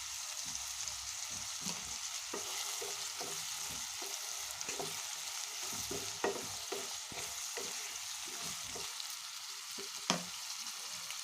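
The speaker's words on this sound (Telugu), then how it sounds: "కట్ చేసి పెట్టుకున్న క్యాప్సికమ్ ముక్కలు వేసి బాగా కలపాలి" Capsicum pieces sizzle in a hot pan while being stirred, a steady frying hiss broken by irregular scrapes and clinks of the spoon, close by with no talk.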